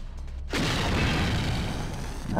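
Loud explosion in the video game System Shock 2, bursting abruptly after a brief quiet moment into a sustained, rumbling roar that fills the space, with a second blast beginning at the very end.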